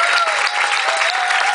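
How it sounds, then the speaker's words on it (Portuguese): A church congregation claps in a dense, continuous burst of applause during a worship service, loud and close, with no speech over it. "uma salva de palmas para Deus"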